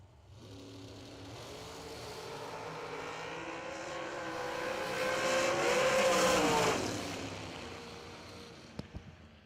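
A drag racing car makes a pass at a bracket racing event, its engine roar building steadily to a loud peak and then cutting off sharply, followed by a couple of brief clicks in the quiet after.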